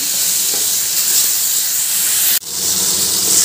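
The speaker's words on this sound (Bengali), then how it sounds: "এবার নুন হলুদ মেখে রাখা ইলিশ মাছের মাথা দিয়ে দিলাম।" Hilsa fish heads coated in salt and turmeric drop into hot mustard oil in a kadai, raising a loud, close, continuous hiss that breaks briefly before sizzling on.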